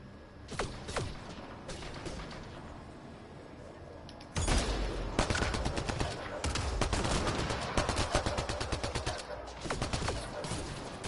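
Gunfire in the video game Mass Effect: Andromeda, with a few sharp shots early, then dense rapid bursts of automatic fire over a steady background hum, loud and close.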